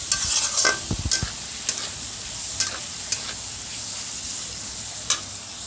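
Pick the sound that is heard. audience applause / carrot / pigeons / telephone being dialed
carrot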